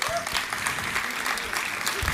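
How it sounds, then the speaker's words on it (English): Audience applause at a sustainability startup competition grand finale at a college, sustained dense clapping from a sizeable crowd, steady and fairly loud throughout. "Can we have a big round of applause for them?"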